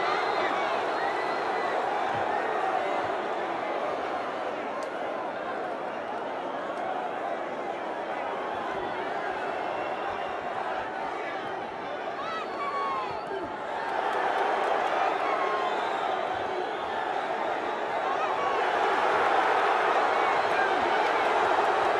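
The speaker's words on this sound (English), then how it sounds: "the crowd thoroughly enjoying this one" Boxing crowd in an arena cheering and murmuring steadily through an 81kg bout, a broad roar swelling in the later seconds, moderately distant.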